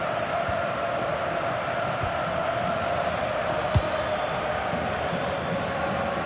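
Stadium crowd in FC 26 during a Portugal vs. Croatia World Cup group match: a steady, loud, dense roar of many voices that holds evenly throughout, with a couple of faint thuds.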